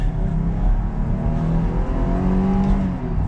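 A Jeep Grand Cherokee L Limited 4X4 accelerates at half throttle in normal automatic drive mode, its engine revving steadily and loudly past 5,000 RPM, heard from inside the cabin with a rising, sustained drone and no talking.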